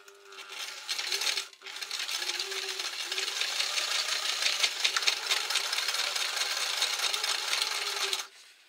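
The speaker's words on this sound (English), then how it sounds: "I'm going to sew down there and sew down along the bottom" A sewing machine runs a long seam through waterproof, non-stretch polyester cotton for a shelter pouch, a fast steady mechanical whir that stops briefly near the start, then resumes and runs continuously until cutting off near the end.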